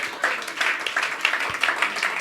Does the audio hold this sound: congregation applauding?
yes